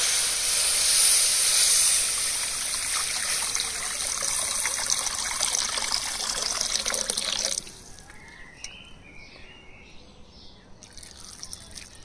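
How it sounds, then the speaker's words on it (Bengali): Water pours steadily into a wok for tamarind sauce, a close, bright splashing stream for several seconds that stops abruptly, followed by quieter clinks and drips. "এবার তেঁতুলের টক রান্নার জন্য কড়াইতে জল দিয়ে দেব"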